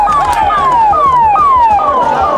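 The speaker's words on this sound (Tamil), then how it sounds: "இப்போ பாருங்க, வா பின்னாடி ஆம்புலன்ஸ் அவங்கள பாதுகாப்புக்கு வந்துக்கிட்டு இருக்காங்க." An ambulance siren at a festival horse race in Tiruvarur wails loudly and close, repeating a falling sweep about twice a second with no talking over it.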